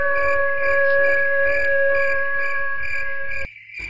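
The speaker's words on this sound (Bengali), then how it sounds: "ঝিঝি পোকার ডাক ছাড়া অন্য কিছুই কানে আসছে না।" Crickets chirp at night in a steady, shrill, continuous trill with pulsing insect calls beneath, fairly loud and close, cutting off abruptly near the end with no talk.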